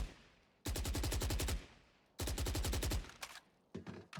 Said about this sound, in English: I think I was doing 10 shots a burst,